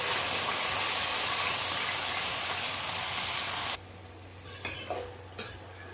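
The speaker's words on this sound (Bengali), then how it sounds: "ম্যারিনেট করা চিকেন গুলোকে আগে একটু ফ্রাই করে নিই।" Marinated chicken frying in a pan gives a loud, steady sizzle that fills the first few seconds, then cuts to quieter stirring with a few scraping clatters of a utensil against the pan.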